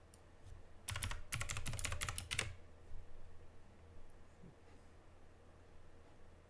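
Keyboard shortcuts are tapped on a computer keyboard in a burst of quick clicky keystrokes lasting a couple of seconds, followed by a few scattered lighter taps, close by in a quiet room.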